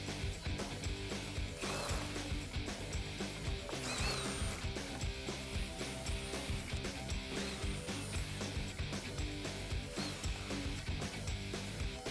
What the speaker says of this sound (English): Now we can actually remove the hardware holding on the splash guard.